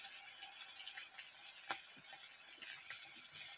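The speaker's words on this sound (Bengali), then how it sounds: "মেয়ের জন্য একটা মাছ ভেজে নিচ্ছি" A katla fish belly piece fries in oil, giving a soft, even hiss with a few faint ticks and light clicks over the top.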